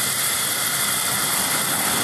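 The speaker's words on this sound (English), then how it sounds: "the next thing I like to do is warm up the generator a little bit" A wood gas powered generator engine warming up, giving a steady, loud, continuous running drone with broadband hiss and no breaks.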